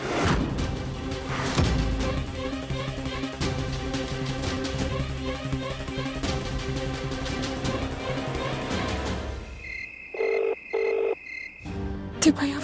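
Telephone ringing unanswered in a domestic drama scene, electronic ring bursts repeating near the end after a stretch of dense dramatic background music, fairly clear and close.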